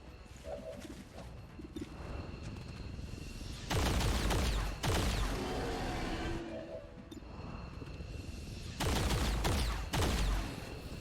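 Bursts of gunfire in the XCOM 2 strategy game, including pistol shots, come in two loud volleys of about a second each. Ambient game sounds with bird-like coos fill the quieter stretches between them.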